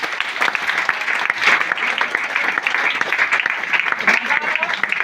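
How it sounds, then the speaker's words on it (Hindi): Audience applause at a Hindi-speaking DXN business meeting, a dense, steady patter of many hands clapping throughout, fairly loud and close. "एक जोरदार ताली होना चाहिए"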